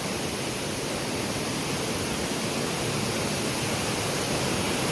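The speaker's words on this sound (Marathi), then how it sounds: "सिंधुदुर्गातील मोठ्या धबधब्यांपैकी एक असा धबधबा मनसे व्याघ्रेश्वर." Vyaghreshwar waterfall in Sindhudurg roars as a dense, constant rush of falling water, loud and close, with no other sounds.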